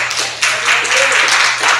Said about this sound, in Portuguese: E você pode dar uma salva de palmas para ele.